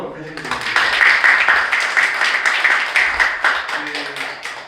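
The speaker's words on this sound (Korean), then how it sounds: "박수 한번 다시 주세요." Church audience at a Christian journalists' forum founding service gives a short round of clapping, a dense patter of hands rising then tapering, with some voices underneath.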